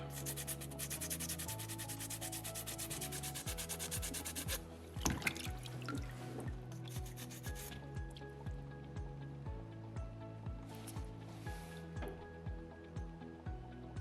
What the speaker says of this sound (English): I'm just kind of keeping my sandpaper relatively flat as I'm scrubbing into this rock.